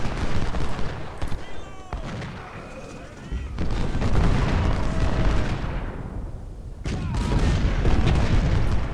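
Howitzer artillery fire in the Civil War strategy game Ultimate General: Civil War, Battle of Gaines' Mill, with loud booming shots and crackling volleys rolling continuously over a dense battle din.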